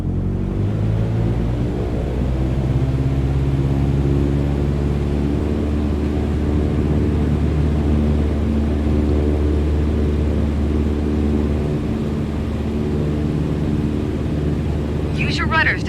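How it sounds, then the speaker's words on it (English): A single-engine training aircraft in Microsoft Flight Simulator 2020 drones steadily at full takeoff power, a loud, even engine roar running throughout with a faint rise in pitch. "Apply full power and I'll walk you through the takeoff as we go."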